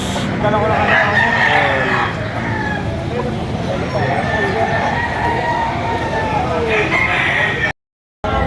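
At a busy poultry market in Padre Garcia, a rooster crows and chickens cluck close by, while people talk over the birds throughout.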